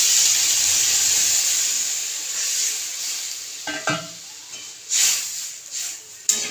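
Water poured into a hot pan of cooking vegetables gives a steady loud sizzling hiss that fades slightly, with a few stirring clatters near the end.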